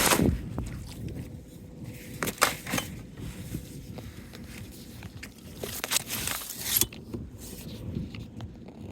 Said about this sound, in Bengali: আমরা কিন্তু আস্তে আস্তে নৌকাটা গভীর জলে নিয়ে যাচ্ছি